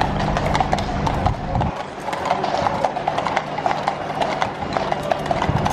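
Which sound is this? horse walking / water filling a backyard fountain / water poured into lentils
horse walking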